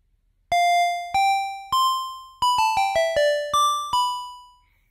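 An AudioKit Saga synth plays a bell-like, chiming melody of about a dozen plucked notes, each striking sharply then decaying, some in quick runs, loud and alone with no talking.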